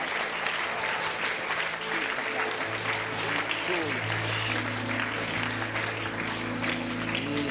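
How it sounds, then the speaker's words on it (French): Congregation applauding during a bilingual church service in Basel, a continuous wash of clapping heard at a moderate distance, with a sustained low musical tone entering partway through and faint voices beneath. "Komm, mach mal einen Applaus für uns."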